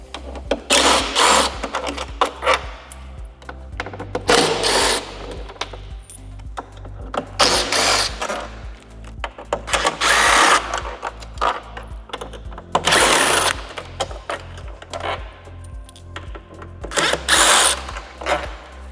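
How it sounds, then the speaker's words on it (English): A power driver whirs in repeated short bursts, close and loud, backing T25 screws out of the fairing on a 2024-2026 Harley-Davidson Street Glide Ultra, with small clinks and handling noises between the runs. "There's 6 screws that we're going to remove first, 3 on each side."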